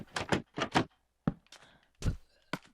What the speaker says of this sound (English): And the trap doors are really cool because they make the same sound.